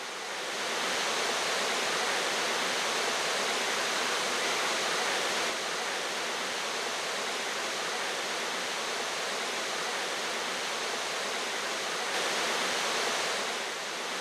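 Frozen waterfalls and a winter stream in Western Massachusetts, in old-growth forest at twelve degrees, produce a steady, dense broadband rush of falling water that holds evenly loud and close for the whole stretch, with no voices.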